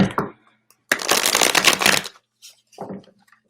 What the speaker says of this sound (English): I'm going to hard shuffle and move this out of the way, okay?